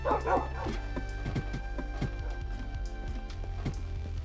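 Dog barking in the Minecraft video game, a rapid string of short yips and woofs layered over game background music, steady and moderately loud throughout.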